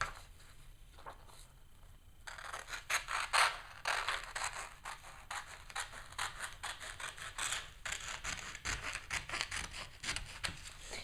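Scissors snip through paper in a quick series of crisp cuts, close and fairly quiet, after a brief moment of near silence.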